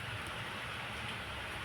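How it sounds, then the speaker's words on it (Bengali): Steady rain falls on an open rooftop cooking spot with a small shelter overhead, a continuous broadband hiss holding even from start to finish with no voices. "বৃষ্টি পড়ছে, তাতে কি"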